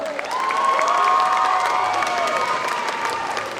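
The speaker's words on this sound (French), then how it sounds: "On peut l'applaudir très très très fort." An audience at a cosplay contest in Lorient breaks into loud, sustained applause and cheering, with whoops and raised voices over dense clapping that holds steady throughout.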